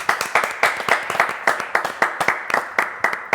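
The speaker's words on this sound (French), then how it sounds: "on va l'applaudir. Nathalie." A theatre audience applauds a performer in a live segment, a dense, steady patter of many hands clapping at close range for several seconds, with no talking over it.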